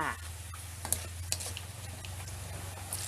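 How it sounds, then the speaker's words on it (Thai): Shallots stirred and frying in a pan give a steady close sizzle, with a few sharp scrapes and taps from the stirring utensil and no talking. "พอเราเจียวหอมเหลืองแล้วนะคะ"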